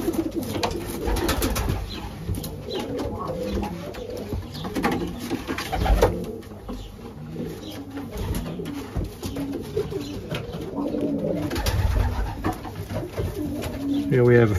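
Racing pigeons coo steadily and close by in a loft during a young-bird race selection, soft repeated throaty calls layered over one another, with faint speech mixed underneath.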